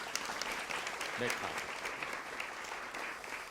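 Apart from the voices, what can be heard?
audience applause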